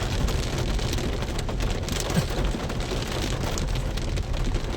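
Dense, steady downpour of heavy rain in Makassar, Indonesia, a continuous loud hiss with no pauses and no voices.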